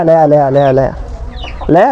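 Chickens clucking close by, with short harmonic calls in bursts and a voice speaking briefly between them.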